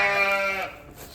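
A single sheep bleats in a straw-bedded barn shortly before lambing, one short wavering call close by that fades into quiet.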